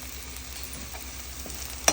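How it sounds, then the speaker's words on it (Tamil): Onions and spices for a cauliflower masala fry sauté in a pan, a soft steady sizzle with faint stirring scrapes and a sharper clink of the spoon near the end. "நல்லா வதங்கிட்டுருக்கு."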